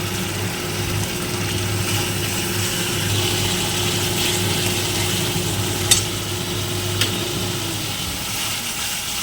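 Cumin-ginger paste and turmeric frying in oil for a potol (pointed gourd) curry give a steady, close sizzle with faint stirring, then a couple of sharp clicks near the end.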